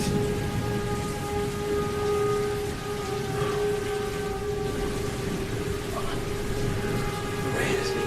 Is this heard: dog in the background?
no